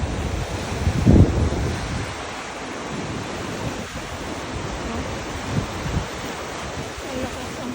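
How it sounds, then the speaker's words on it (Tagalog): Big ocean waves at a beach, a broad, continuous roar of surf mixed with heavy wind buffeting the microphone, with a louder wind gust early on. "Lalaki ng mga alon, guys."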